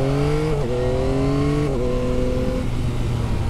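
A Yamaha XSR 900 motorcycle engine revs steadily uphill on a hill climb, its pitch rising and dipping with two quick gear shifts, loud and close with no talk.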